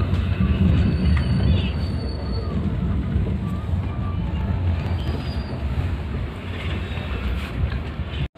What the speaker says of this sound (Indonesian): kereta api Serayu diberangkatkan kembali dari stasiun Bandung